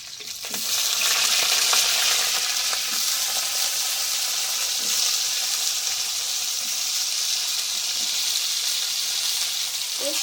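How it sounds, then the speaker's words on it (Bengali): Cauliflower florets and potato fry in a hot pan with green chillies, giving a steady, dense sizzle that starts abruptly and holds at an even loud level, close up with no talking. "এবার আমি দিয়ে দেবো ফুলকপিগুলো।"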